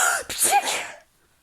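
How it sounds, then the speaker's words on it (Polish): One close, forceful human sneeze with a quick inhale and sharp burst, trailing off into silence within a second. "Już kichało całe miasto."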